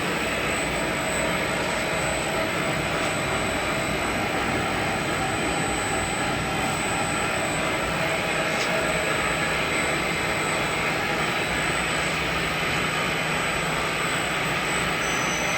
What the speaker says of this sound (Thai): อนนี้ปั๊มปุ๋ยเริ่มสตาร์ท